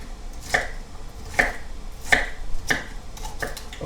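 A knife chops broccoli and asparagus on a cutting board, about five crisp, close strikes spaced at a loose, steady rhythm with quiet between them.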